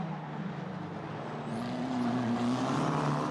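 Formula 4 single-seater race cars climbing uphill at the Red Bull Ring, one tucked in the slipstream of another; a steady, loud engine drone with a rising whine builds as they draw closer.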